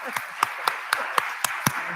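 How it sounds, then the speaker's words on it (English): Seven evenly spaced, sharp claps ring out at a conference, sounding more like one or a few pairs of hands than a full crowd. "a round of applause for Dina."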